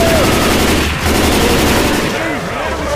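Loud, rapid automatic gunfire rattles in a Left 4 Dead 2 versus match, dense bursts filling the whole stretch with shrill game effects woven through, close and continuous.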